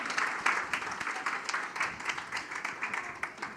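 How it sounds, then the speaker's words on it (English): An audience at a social development ministry event applauds after a song performance, a steady, moderate wash of clapping from many hands that keeps going for several seconds and fades slightly toward the end. "Let's hear another round of applause for that beautiful rendition"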